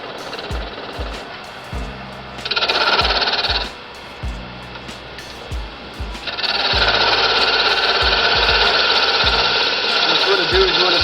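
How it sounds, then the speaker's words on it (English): Wood lathe spinning a wooden blank while the taper of a topwater spook-style fishing bait is shaped, a steady mechanical whir broken by bursts of bright, scraping tool contact, with a voice talking over it. "we got the lathe spinning already"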